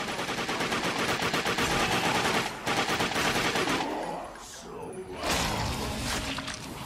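Dense automatic gunfire in the video game The Darkness rattles loudly and continuously, easing off into a brief lull before another burst resumes the steady rapid fire.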